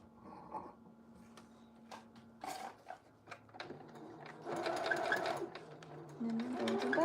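A sewing machine stitches fabric during a clothing alteration, with short stop-start bursts of rapid mechanical chatter that grow into longer continuous runs, recorded close but at modest volume.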